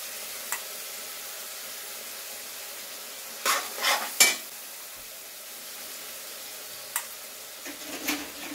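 Spice paste with cumin and coriander frying in a pan, a faint steady sizzle broken by a few short spoon scrapes and clinks against the pan.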